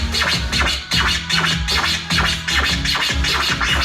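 Baby scratches on a DJ turntable at double time, eight per bar over a beat: rapid, loud back-and-forth record scratches packed tightly against the drum loop, with no voice.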